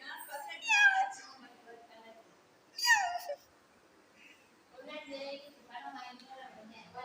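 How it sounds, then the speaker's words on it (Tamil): A cat gives two clear meows a couple of seconds apart, then a person talks softly and coaxingly nearby. "மியாவ் சொல்லுங்க, மியாவ் சொல்லுங்க. Meow meow."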